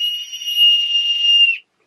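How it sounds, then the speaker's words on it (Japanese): A survival emergency whistle from a disaster-preparedness kit gives one loud, steady, shrill blast lasting about a second and a half, then cuts off sharply into silence. "その時にこのホイッスルで"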